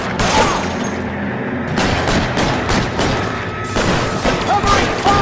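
Loud, dense gunfire rattles through an L.A. Noire shootout as rapid overlapping shots, with game voices mixed in throughout.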